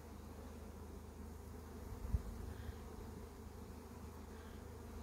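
Honey bees hum around an open four-frame nuc at a hive, a steady, low, continuous buzz with the whole swarm droning evenly and no talking.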